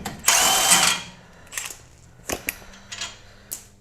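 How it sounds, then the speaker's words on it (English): An impact wrench backing out the 19mm lower shock bolt on a third-generation Toyota 4Runner during a 2-inch lift install: one long loud rattling burst, then several short sharp bursts and clicks. "we'll use the impact to get it the rest of the way out"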